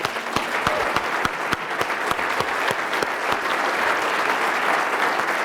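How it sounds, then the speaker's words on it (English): An audience gives a round of applause at a city's State of the City address, a full, continuous clapping of a large crowd with crisp individual claps cutting through, steady and close with no talking over it. "And if we could all just give John a round of applause."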